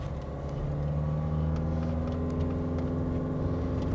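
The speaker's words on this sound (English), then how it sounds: "But there you hear that groan of the engine again." A 2013 Hyundai Santa Fe with a 2.2-litre four-cylinder engine groans steadily under load on a climb into the hills, a close, continuous low drone with a faint rising note and no voices over it.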